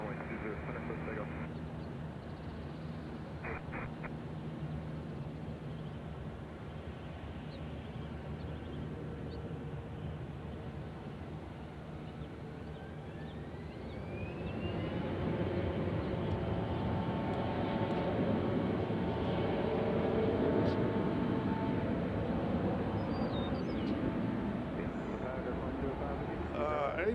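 A jet airliner spools up and rolls for takeoff from runway 20 Center at Nashville International Airport, a steady distant roar swelling louder midway, with people talking over it.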